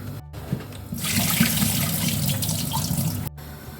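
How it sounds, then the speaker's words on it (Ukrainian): Tap water gushes steadily over cucumbers being rinsed for canning, a close, continuous splashing stream that starts after a quiet moment and cuts off near the end. "Нам огірочки потрібно злити, їх гарненько промити"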